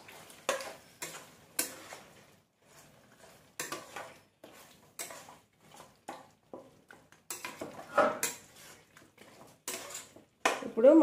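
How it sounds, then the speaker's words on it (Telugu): Dhaba-style chicken curry being stirred in a pot with curry leaves, a spoon scraping and clinking against the metal in an uneven run of short strokes, close by, with a voice talking between them. "ఇవన్నీ వేసి బాగా కలుపుదాం ఒకసారి."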